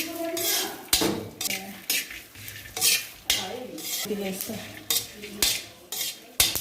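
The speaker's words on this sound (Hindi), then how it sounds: "पिस्ता और 4 मगज़ फ्राई, सारी चीज़ें आस्ता आस्ता फ्राई करेंगे।" Pistachios and melon seeds frying slowly in a pan for panjeeri, a spoon scraping and clinking against the metal in a steady stirring rhythm over a soft sizzle, close and fairly loud.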